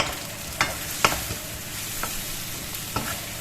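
Pork with sesame seeds is stirred in hot oil. A few sharp scrapes and taps of the spoon against the pan sound over a faint, steady sizzle.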